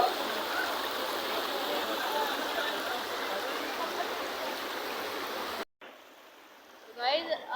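Stream water pouring at a waterfall in Islamabad, a steady close rushing and splashing that runs continuously before cutting off, followed by brief talk.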